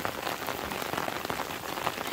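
In a forest, a steady shower drums on the foliage and ground, an even, continuous patter of countless drops heard up close with no speech.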